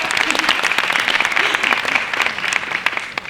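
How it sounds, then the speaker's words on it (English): Applause from a press conference audience for Cate Blanchett, steady dense clapping throughout with a few louder individual claps standing out, a faint voice threading underneath. "Is that what that applause is about?"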